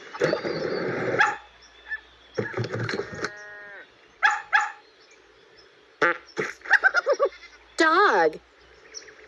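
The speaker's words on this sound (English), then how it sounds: "Dog." A dog barks in short bursts in a children's animal sounds compilation, alternating with other animal calls such as bleating and with spoken words.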